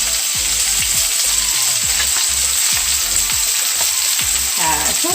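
Korean blood sausage (sundae) stir-fries in a pan with soy sauce, a loud dense sizzle filling the whole stretch while a spatula scrapes and taps against the pan at a steady, irregular pace.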